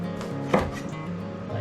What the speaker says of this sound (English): cut the peppers